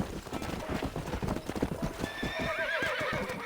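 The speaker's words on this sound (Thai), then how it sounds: "ตอนนี้เราเจอม้านะครับ" Horse hooves clip-clop in a steady rhythm in the mobile version of Red Dead Redemption while wild horses are caught, joined near the end by a close, loud whinnying neigh.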